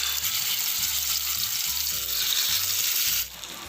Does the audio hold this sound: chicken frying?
yes